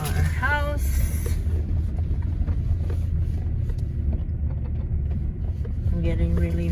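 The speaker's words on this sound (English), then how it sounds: "Okay, now we're driving, going to our house." Car driving along a road toward a family farm house in Canada, a steady low engine and road rumble with wind noise throughout, with people talking over it.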